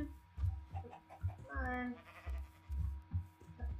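Sheep bleating on a farm in a game about collecting cows, a single wavering bleat rising in the middle of the clip while someone talks to the animals before and after it.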